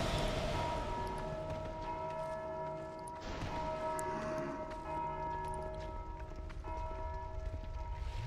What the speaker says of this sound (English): Primarily because of this bell here,